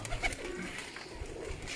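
Pigeons coo softly and repeatedly at a rooftop loft during a pigeon-flying session, low throaty calls close by with faint background noise and no talking.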